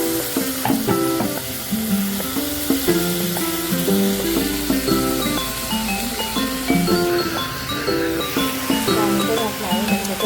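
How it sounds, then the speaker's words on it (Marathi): Tomatoes sizzle and fry steadily in a hot pan while being sautéed for masale bhat, a loud continuous crackle throughout with stirring, and background music plays underneath. "म्हणजे टोमॅटो छान परतून होईल, मऊ होईल."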